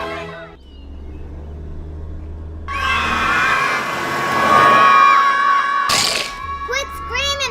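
Children shrieking and yelling in a school setting, a loud burst of high, piercing screams rising after a few seconds and holding, with speech and a sharp clatter around it.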